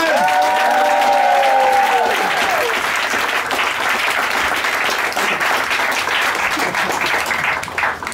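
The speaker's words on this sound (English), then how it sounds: "Please clap, go wild, go mental, go crazy for the wonderful Jennifer Livingstone!" An audience claps and cheers for stand-up comedian Jennifer Livingstone, with a loud, full roar of applause and whoops over a brief voice at the start, dipping slightly as it continues.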